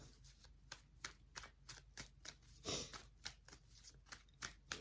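Rapid riffling and flapping of tarot cards being shuffled, a string of quick papery bursts close by, fairly quiet.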